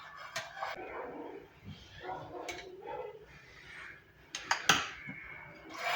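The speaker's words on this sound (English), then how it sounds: "So I'll use a tablespoon to scoop out." A tablespoon scoops eggless banana muffin batter into a lined muffin tray, giving scattered light metallic clinks and scrapes, quiet and close, with soft kitchen background between them.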